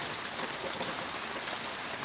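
Steady rain falls over a village, a dense, even wash of drops at moderate level filling the short stretch without pause or voices.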